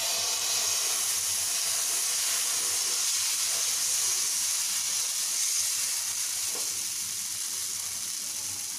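Wheat flour dosa batter sizzles steadily on a griddle spread with a tablespoon of oil, a constant close bright hiss with no talk.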